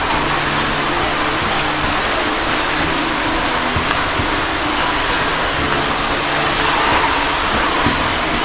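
Cars driving on the road above a storm drain off the Mississippi River, heard from below as a steady, loud, echoing rumble of passing traffic that never lets up.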